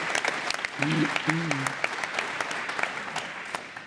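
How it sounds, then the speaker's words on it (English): Crowd applause and cheering from a live audience for the North Bay Battalion hockey team at a North Bay event, a steady broad wash with a brief voice rising through it around the middle. "How about a cheer for the battalion?"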